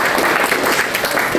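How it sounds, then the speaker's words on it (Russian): Students applaud in a hall during a tourism event: loud, close, continuous clapping from a large group, thick and even throughout. "По-другому звучат ваши аплодисменты."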